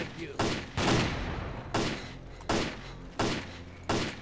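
Gunfire in the video game S.T.A.L.K.E.R. lands as five loud, evenly spaced reports with brief reverberant tails during a firefight.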